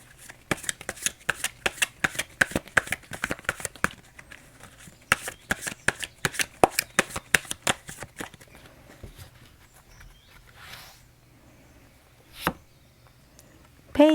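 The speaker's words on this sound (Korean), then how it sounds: "이제 마지막 조언 카드 3장 한번 뽑아보도록 하겠습니다" Tarot cards being shuffled, giving a quick run of crisp riffling snaps and taps that thins out into a few scattered soft flicks, close and quiet.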